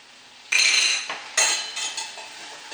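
A utensil scrapes and clinks against a pan while flour and butter cook together for turkey gravy, two sharp metallic strikes followed by lighter scraping and tapping, close and clear with no talk.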